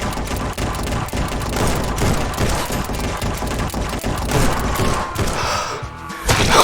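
Rapid bursts of gunfire from snipers on a roof in Red Dead Redemption 2 played in VR crack over dense layered game noise, shots repeating almost continuously at close range.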